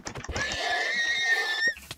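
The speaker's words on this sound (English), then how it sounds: "I wonder how much damage the horses do." A horse neighs in the Minecraft video game, one drawn-out whinny lasting over a second with a falling pitch. Brief soft game clicks and thumps come before and after it, and no one speaks.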